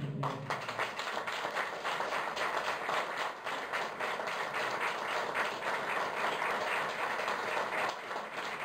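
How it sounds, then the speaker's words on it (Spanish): A crowd claps steadily and continuously for the Virgin Mary at a church feast-day Mass, a dense, even round of applause sustained throughout, moderately distant. "dándole un fuerte aplauso a nuestra Madre del Cielo, la Virgen María"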